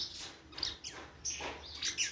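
A saffron finch (canário da terra) gives a run of quick, high, thin chirps and tweets at close range, bright and clear over quiet surroundings.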